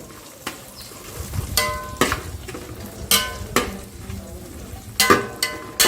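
Raisins heating in ghee for a Kerala-style chicken biryani: a soft, continuous sizzle broken by sharp clanks of a spoon or ladle against the pan at irregular intervals.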